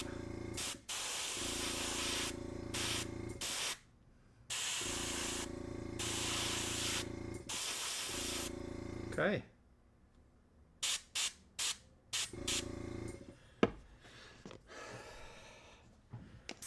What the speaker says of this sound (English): Why did you have to use the airbrush?